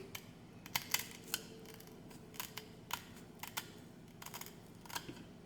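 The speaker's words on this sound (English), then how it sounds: "I'm going to take some shears and I'm going to try to clean this up a little bit" Shears snip the end of a DIY LiFePO4 battery build in a series of quiet, close, crisp cuts at an uneven rhythm over a faint background hiss.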